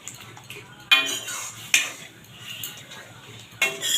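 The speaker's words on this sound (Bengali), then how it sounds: "ডালটাকে আমি এইভাবে একটু বেটে দিচ্ছি।" Boiled lentils being mashed in a pan with fried garlic, a few sharp clacks of a utensil against metal between softer scraping, close up.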